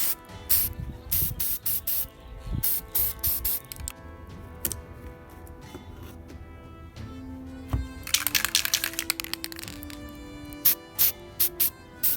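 Spray paint undercoating miniature models in bursts of aerosol hiss, several short sprays alternating with quiet gaps and a few light clicks and taps, near and moderately loud with no talk.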